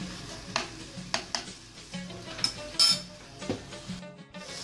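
Onion frying in a pan, with a soft steady sizzle under irregular close clinks and scrapes of a utensil against the pan, no voices.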